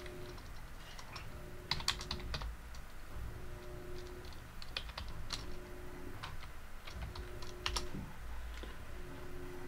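A password being typed on a computer keyboard, soft irregular key taps in quick clusters with brief pauses, close and quiet against a low background hum.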